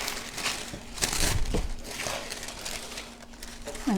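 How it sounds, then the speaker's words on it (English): Paper strips for a cupcake bouquet are crumpled by hand, giving soft, close crinkling rustles in a few uneven bursts with quieter handling between them. "I don't know if I'm going to crinkle these up anymore"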